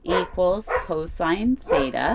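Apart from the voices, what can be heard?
dogs barking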